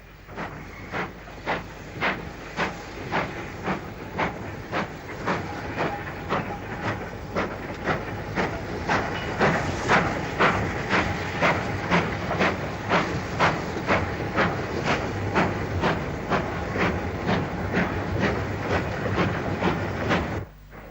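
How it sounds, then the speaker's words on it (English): A Black 5 steam locomotive ambles past hauling a coal train on the South Staffs line near Walsall, steady rhythmic exhaust beats and wagon clatter sustained and fairly loud throughout, with hiss of steam over a continuous rumble. "a Black 5 ambles by with a coal train from Witchnor Junction to Norton Junction near Walsall"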